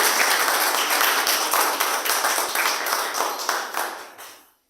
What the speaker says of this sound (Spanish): Siempre cuando estoy por terminar le empiezan a aplaudir porque parece que quieren terminar.